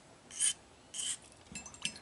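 A knife drawn along a sharpening stone in one direction, four short rasping strokes spaced apart, close and fairly quiet, with no voices.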